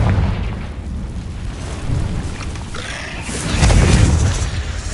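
A Confringo blasting spell goes off during combat in a cave in Hogwarts Legacy: a deep booming explosion that swells and rumbles, loudest toward the end, over a continuous low background of game ambience.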